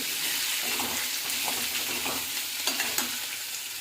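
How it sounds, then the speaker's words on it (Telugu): Tamarind and other ingredients for a peanut-free dosa chutney sizzle steadily in a pan while a spoon stirs and scrapes through them, a continuous close frying hiss with light clinks. "ఈ విధంగా వేయించుకోవాలన్నమాట మధ్య మధ్యలో కలుపుతూ వేయించుకోవాలి"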